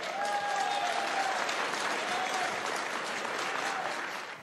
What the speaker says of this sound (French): qu'est-ce que ça vous inspire de voir Emmanuel Macron applaudi par ses ouvriers